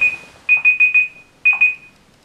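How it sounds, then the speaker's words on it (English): A darkroom timer alarm for film developing goes off close by: a group of four sharp electronic beeps, a short pause, then two more, loud and clear with no talking. "This timer is about to go off"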